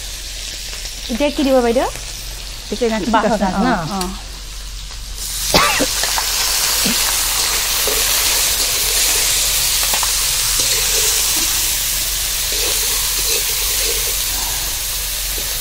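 Fish fries in hot oil with a sudden loud sizzle that breaks out after some talk and then keeps hissing steadily, with a few faint voices and clinks over the top.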